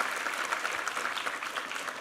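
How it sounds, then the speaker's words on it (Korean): A church congregation at a Korean Sunday worship service applauds a singer, a warm, even patter of many hands clapping at moderate volume, steady throughout with no speech. "힘찬 한번 격려의 박수 부탁합니다"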